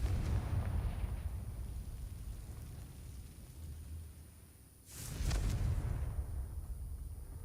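A Confringo fire spell from the video game Hogwarts Legacy bursts into a single loud, sharp explosion midway through, rising over steady game ambience and rumble before the background swells again.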